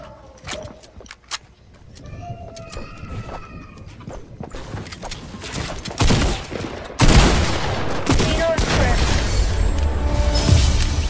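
Video game gunfire crackles in scattered single shots and short bursts, then swells into dense, continuous firing mixed with explosions and movement noise.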